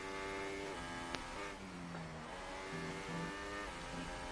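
Onboard sound from race leader Onyx's Formula Racing Series car in Germany: a loud, steady engine note held close, rising and falling through gear changes with a brief sharp click partway, and no talk over it.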